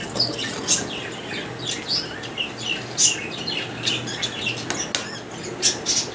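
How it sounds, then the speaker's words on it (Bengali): A pair of racer pigeons with a chick in a cage gives repeated short squeaks and chirps at close range, scattered irregularly over a faint background hiss. "মানে দর্শক এক জোড়া রেসার কবুতর আপনাদেরকে দেখাই"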